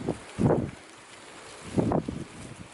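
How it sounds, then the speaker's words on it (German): Wind gusts outdoors in a vineyard, rising in two distinct bursts of low rumbling buffeting and rustle against the microphone with quieter stretches between. "Aha, und schon geht der Wind los."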